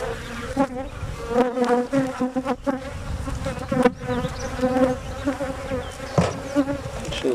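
Honey bees swarm around an open beehive during an inspection, producing a close, continuous wavering hum that rises and falls for several seconds.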